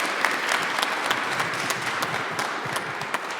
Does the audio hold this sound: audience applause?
yes